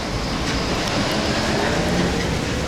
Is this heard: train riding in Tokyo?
yes